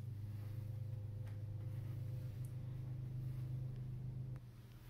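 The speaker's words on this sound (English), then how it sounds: "is my neighbor cutting the grass." A neighbor's lawn mower cutting grass outdoors gives a steady, droning low engine rumble at moderate distance, holding constant before dropping slightly near the end, with no talk over it.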